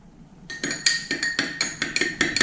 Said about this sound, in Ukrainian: Тепер в склянці води розводжу одну столову ложку томатної пасти